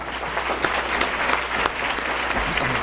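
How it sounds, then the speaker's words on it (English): Audience applause for Governor Cecil Andrus at a Women and Leadership event, a dense, steady round of clapping from a sizeable crowd, sustained and fairly loud throughout with no talk over it. "Please give a round of applause to Governor Cecil Andrus."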